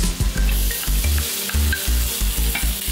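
Carrots tipped into a pan of already cooked, sizzling onions give a loud, close frying sizzle, with rhythmic stirring scrapes and clatter about every half second and no voices.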